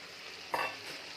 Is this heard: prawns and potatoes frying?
yes